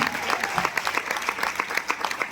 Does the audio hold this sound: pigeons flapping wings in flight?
no